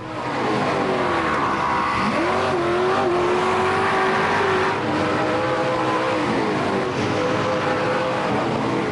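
Race cars roaring around the Antioch Speedway oval during a main event, engines howling loud and continuous for the whole stretch, pitch rising and falling as cars pass close by, with tyres squealing now and then.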